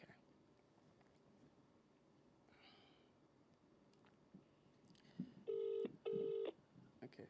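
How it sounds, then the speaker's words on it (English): An outgoing phone call rings back twice, two even electronic tones in quick succession, heard over a faint, quiet room background. "Okay, it's ringing."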